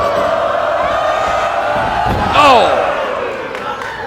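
A wrestling crowd at a live show cheers and roars loudly as a slam lands in the ring, with a sharp impact and a rising whoop, and a voice shouts over the din.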